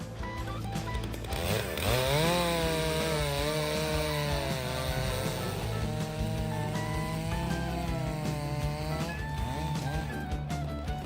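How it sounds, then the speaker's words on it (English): A Stihl MS661 chainsaw cuts firewood, its engine screaming loud and close in a steady, sustained whine that rises and dips slightly in pitch as the chain bites through the wood, with no speech. "Steel MS661 chainsaw easily handles firewood handling."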